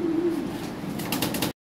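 A pair of white Lahori pigeons coos close by, a low throaty murmur that carries steadily through the short moment with no voices over it.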